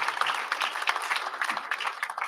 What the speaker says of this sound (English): Come on, let's give everyone a round of applause.